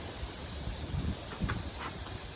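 Ghee sizzles steadily on a Blackstone griddle under pork chops, a close, constant hiss with a few faint crackles and pops, no talking.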